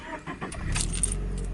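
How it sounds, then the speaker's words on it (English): A manual 2013 Scion FR-S with keys jangling, then the engine cranking and catching into a low, steady idle, heard close and alone. "Engine sounds pretty nice"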